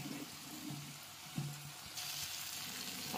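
Chole masala with green chillies frying in a pan while being stirred, a soft steady sizzle with a brief scrape of the spoon, close and fairly quiet.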